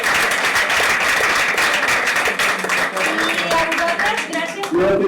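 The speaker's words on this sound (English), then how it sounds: "Big clap." Sustained audience clapping and applause after a book club talk about Trevor Noah, dense and steady throughout with a few voices faintly under it near the end.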